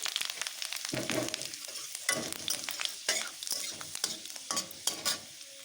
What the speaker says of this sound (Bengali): ফোড়নের মধ্যে দিয়ে দিয়েছি শুকনো লঙ্কা, তেজপাতা। এখন দিয়ে দেব ফোড়ন।